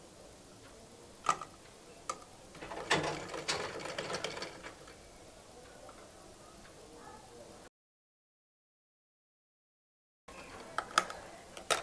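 A sewing machine stitches along the front body fabric of a frock with a gathered waist for a toddler, running in rattling bursts for a few seconds amid speech, then falling silent.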